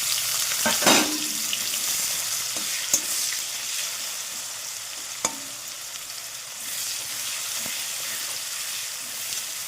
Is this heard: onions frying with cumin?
yes